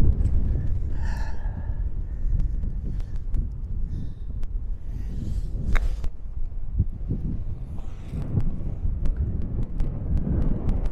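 Strong wind gusting across an open seaside links golf course at Pacific Dunes, a steady loud rumble buffeting the microphone throughout with a few faint breaths and small knocks on top.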